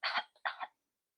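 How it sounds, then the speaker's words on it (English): A person clears their throat in two short, rough bursts, close and fairly quiet, followed by silence. "Let me clear my throat."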